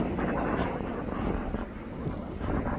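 A Jet2.com airliner takes off at East Midlands Airport, a steady, loud broadband engine roar with wind buffeting that holds throughout with only slight swells.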